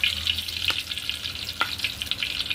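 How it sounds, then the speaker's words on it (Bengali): Whole garam masala crackles in hot ghee in a kadai, a steady close sizzle punctuated by a couple of sharp pops and light stirring scrapes. "গরম মশলাটা ভাজা ভাজা হয়ে এসছে"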